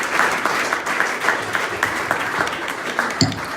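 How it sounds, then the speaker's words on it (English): Audience applause closing a talk on drug and alcohol prohibition: a steady, dense patter of many hands clapping for several seconds at moderate level, with no voices. "Round of applause."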